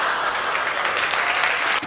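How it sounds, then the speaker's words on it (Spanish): A stand-up comedy audience breaks into applause, a dense, even wash of clapping that holds steady for a couple of seconds before cutting off. "veo que el público aplaude"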